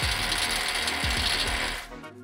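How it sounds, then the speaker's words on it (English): A ratchet tightens masonry bolts through a bracket into a stormwater basin wall, giving loud, close, rapid mechanical clicking from the pawl that runs steadily and then stops abruptly near the end. "using the ratchet, secure the masonry bolts through the bracket into the basin wall and tighten to secure"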